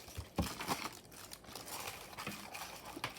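Scissors trimming the edges of a paper collage masterboard made from vintage French book pages, heard as faint, close crinkling and soft snips in irregular bursts.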